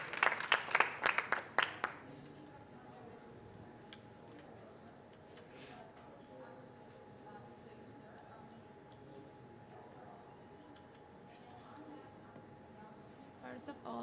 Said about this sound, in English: Big applause for her, please.